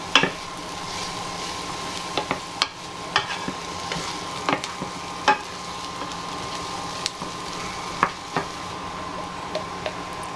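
Chopped ginger and onions fry in a pan while a utensil stirs them, a steady soft sizzle broken by irregular scraping clicks and knocks, close and fairly quiet with no talking.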